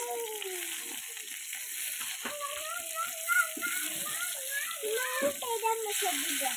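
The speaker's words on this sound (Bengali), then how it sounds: "রাখো মাছটা ভাজি করি বাবা" A steady sizzling hiss of fish frying in a pan runs under people talking nearby, including what sounds like a voice.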